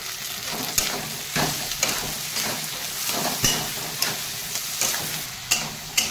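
Onion and tomato with turmeric sizzle steadily in a pan, a close, continuous frying hiss punctuated by repeated scraping thumps of stirring every second or so. No one speaks.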